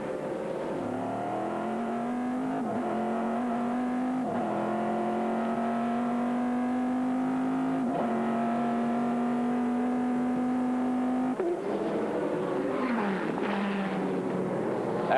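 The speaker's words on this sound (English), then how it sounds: "Borschler trying again and takes the GCS lead" Race cars at speed in the 2001 American Le Mans Series, a loud sustained engine whine rising and falling through gear changes, with several cars passing close and overlapping, no talking.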